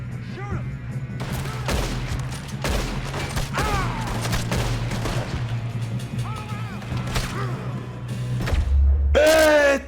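Gunshots and volleys ring out in Red Dead Redemption 2 during a train robbery, sharp repeated cracks spread across the whole stretch over steady game ambience, with bursts of voice and a loud final blast near the end.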